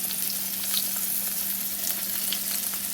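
Pork chops fry and brown in a pan, a continuous close, loud sizzling hiss with small crackles and a low steady hum beneath, no voices.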